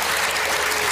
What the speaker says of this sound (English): Let's give them all a big, big clap then.